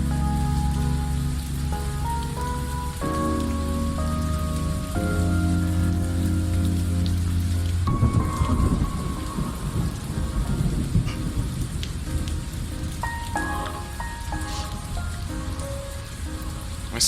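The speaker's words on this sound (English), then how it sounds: "we also ain't got the luxury of standing around in the rain all night" Heavy rain pours steadily in a video game thunderstorm, a dense hiss that continues throughout, with low rumbling thunder rolling in about midway under sustained tonal music.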